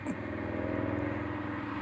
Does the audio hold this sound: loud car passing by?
yes